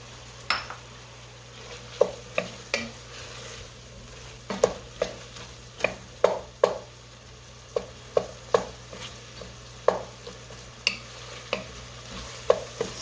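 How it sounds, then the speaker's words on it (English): Four bite-sized pieces of cut mushroom sauté in a pan under a low steady sizzle, punctuated by frequent sharp clicks and scrapes of a utensil stirring against the pan, close and quiet. "I have 4 mushrooms that I cut up into bite-sized pieces, and I'm going to add that so that starts to saute"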